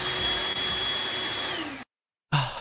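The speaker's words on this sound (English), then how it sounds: "I'm turning on my vacuum." A loud household vacuum cleaner whines at a steady high pitch for nearly two seconds, cuts out abruptly into silence, then starts up again sharply.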